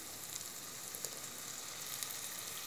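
Tamarind water poured into a hot pan of spices for a curry leaf and garlic kulambu hisses in a steady, close sizzle with faint crackles, fairly quiet and heard alone without speech.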